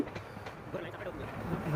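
The Araku passenger train runs along with a quiet, continuous rolling rumble under a person's speech.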